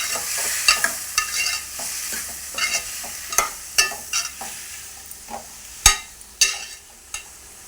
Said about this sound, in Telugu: టమాటా బాగా మగ్గాలి కలుపుకోవాలి